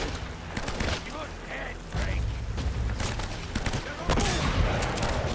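A shotgun in Uncharted fires in a busy firefight, sharp blasts mixed with other gunfire and mechanical clatter. Heavy, steady noise continues throughout, and speech is partly heard.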